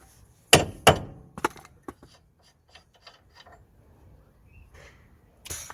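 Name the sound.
rawhide mallet knocking drive shaft out of hub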